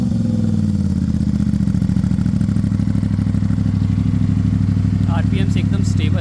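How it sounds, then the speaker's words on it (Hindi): An Aprilia RS457 motorcycle fitted with a GPR Ghost Inox underbelly exhaust runs at steady revs with a loud, close, throbbing engine note, then a brief rising whine near the end. "इसमें लगा है GPR ghost INOX underbelly exhaust"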